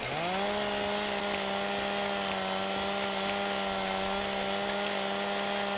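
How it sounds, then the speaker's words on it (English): A chainsaw roars close and loud through wood, holding a steady high-revving drone with no letup and no voices over it. "I always forget how loud this damn chainsaw is"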